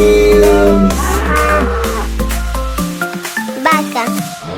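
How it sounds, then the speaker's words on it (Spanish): A bull lets out a long, low moo over bright children's-song music, the bellow sustained for a few seconds before the melody carries on alone. "Toro."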